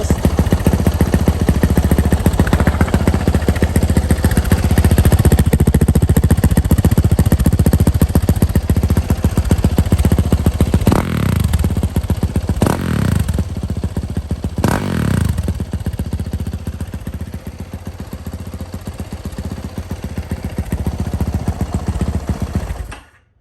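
A 2019 Yamaha YZ450F dirt bike with its stock exhaust idles with a loud, close, rapid rattling thump. The engine is blipped hard several times, each rev rising sharply and falling back before it settles and shuts off.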